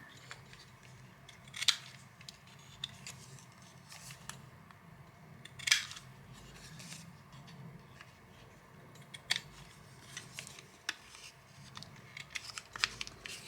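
Paper corners being rounded with scissors during a sketching craft session, a few crisp snips and clicks spaced apart over a quiet room hum, close and fairly soft.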